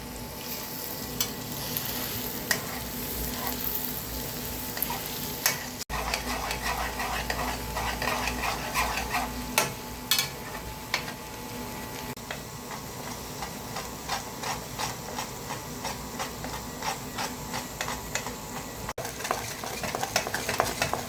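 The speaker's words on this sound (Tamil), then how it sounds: "கிண்டி விட்டுக்கலாம்ப்பா." Radish and egg stir-fry being stirred in a pan, with steady scraping and clinking of a spoon against the pan over a soft sizzle, repeating quickly and close by throughout.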